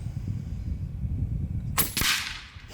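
A single sharp, loud crack from an Umarex Gauntlet 2 SL30 side-lever big-bore PCP air rifle, with a short broadband tail, set against an outdoor background hum.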